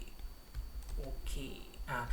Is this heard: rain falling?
no